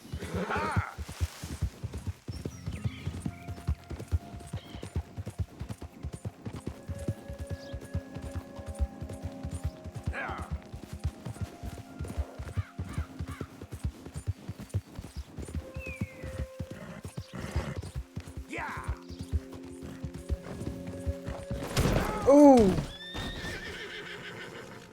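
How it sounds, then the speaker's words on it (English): A horse in Red Dead Redemption 2 gallops with steady rapid hoofbeats throughout, whinnying loudly near the end as it runs into a tree, while a player talks over the action. "The horse should avoid the tree. It's a horse."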